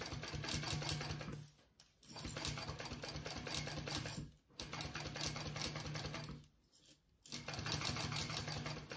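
A sewing machine runs in fast, steady bursts while top stitching a crossbody bag, stopping three times with brief quiet gaps between runs, close and fairly loud.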